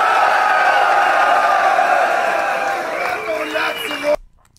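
Live crowd at a German rap battle cheering and whooping loudly in a sustained roar that thins out before cutting off abruptly, with no talk over it.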